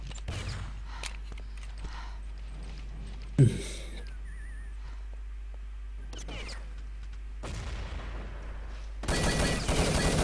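Rapid bursts of gunfire in a team shooter match, sharp volleys and a loud single crack amid steady background hum, with faint voices underneath and a dense burst of fire near the end.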